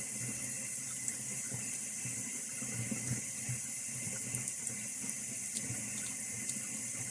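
Etched shot glasses are rinsed under a running tap, giving a steady, close splashing stream of water with small clinks throughout and no voices.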